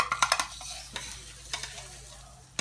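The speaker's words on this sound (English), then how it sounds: "And we slip it back into the frying pan." Soft sizzling of a Spanish potato omelette (tortilla española) in a frying pan with a few sharp scraping and clinking taps from a utensil, quiet and close.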